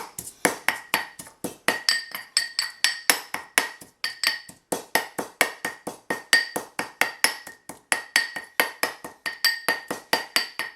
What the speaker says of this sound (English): you're just going to basically pound your garlic with the salt until it's a very smooth paste